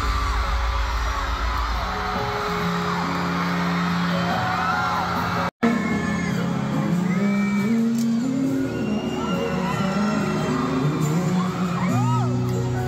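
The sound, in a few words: concert crowd cheering at a show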